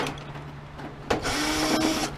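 A cordless battery drill backing screws out of an electric infrared space heater, quiet handling at first, then a sudden loud whirring burst of the motor that runs for about a second, close up.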